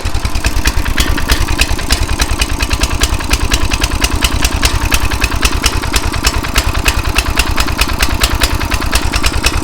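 Coleman CT200U-EX mini bike engine running after a pull start, a loud close single-cylinder putter with a fast steady pulse and no pauses.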